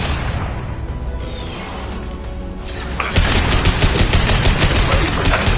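Mass Effect combat gunfire, sustained bursts of rapid automatic shots that intensify partway through into a dense, loud barrage with whooshes and impacts.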